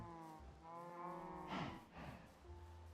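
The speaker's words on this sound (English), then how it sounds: "I'm building up my cows." Cows in the video game Minecraft moo in a few drawn-out, harmonic lowing calls over about three seconds, fairly soft and without speech.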